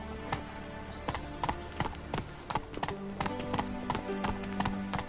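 A horse gallops in The Witcher 3 video game, rhythmic hoofbeats thudding close and steady over a low game ambience.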